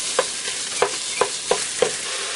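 Hot sausage browns in olive oil in a pressure cooker with a constant hissing sizzle. Five evenly spaced scrapes of a spoon stir it, close and clear, with no voices.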